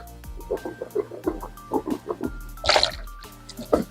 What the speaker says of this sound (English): You rinse your mouth.